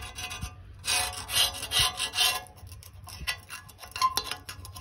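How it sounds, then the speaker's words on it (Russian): A metal grave fence is scraped with a knife and scrubbed with a brush, rhythmic rasping strokes in bursts that fade and return, close up with no voices. "Чищу я ножом вот таким. И щеткой."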